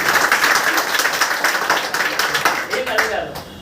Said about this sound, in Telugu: రియల్గా అసలు గట్టి క్లాప్స్